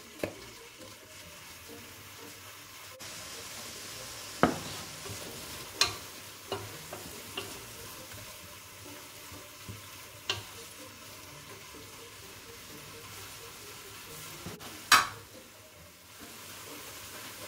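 Coarsely chopped pepper frying in a pan with a steady low sizzle, broken by a few sharp clicks and scrapes of stirring, close and fairly quiet, no voices.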